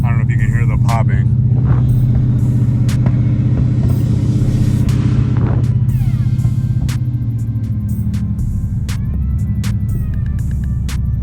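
A third-gen Camaro Z28 runs rough with a misfire, a heavy uneven low rumble broken by sharp pops and crackles, heard from inside the car while someone talks over it.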